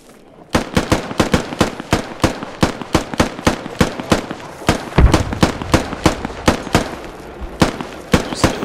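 Gunfire in the military shooter video game Squad cracks out as a long series of loud, closely spaced rifle shots in a steady rhythm, near and sharp, with no talk over it.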